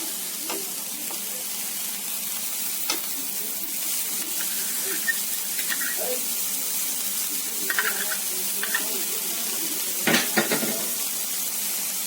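Butter and coriander are stirred into chana ghugni in a pan, with a faint steady sizzle and occasional soft scrapes and knocks of a spoon against the pan.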